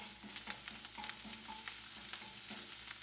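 Ramen noodles with chorizo fry steadily in a hot pan, a continuous close sizzle broken by repeated scraping and stirring strokes, with no talking.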